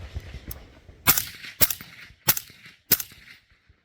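A PWS MK116 Mod 2-M rifle fitted with a suppressor fires four sharp, muffled shots at an outdoor range, unevenly spaced over a few seconds, each a crisp crack with a brief tail.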